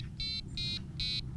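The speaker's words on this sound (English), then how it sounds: "Now I can change the volume of this alarm up to quite loud" A compact wireless carp fishing bite alarm sounds three short, loud electronic tones in an even rhythm, each bright beep separated by a brief gap, heard up close and alone.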